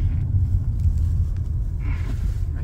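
A chiptuned car engine rumbles steadily nearby with a dog close in front of it, a loud low continuous drone with no talk over it.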